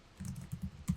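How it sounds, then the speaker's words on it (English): Quick keystrokes clatter on a computer keyboard during a spreadsheet address-list cleanup, a short close burst of uneven taps and clicks with no talking. "I'm typing really poorly while I'm talking to you."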